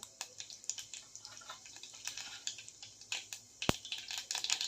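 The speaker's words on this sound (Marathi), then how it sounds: "मोहरी तडतडायला लागली" Mustard seeds spluttering in hot oil for a potato and pea pulao, giving faint, scattered crackles and pops in a quiet kitchen, with one sharper snap near the end.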